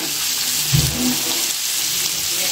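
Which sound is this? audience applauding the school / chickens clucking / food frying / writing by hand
food frying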